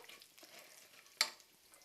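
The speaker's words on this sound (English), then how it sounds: "The sizzling gives a different flavor." Soft, steady sizzling of cumin seeds frying in about two teaspoons of hot oil in a pan, with a brief sharper crackle partway through.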